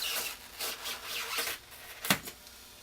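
Mill foam is trimmed away by hand with a blade, producing a series of short scraping, rasping strokes in an uneven rhythm, close and moderately loud, with one sharper snap near the end.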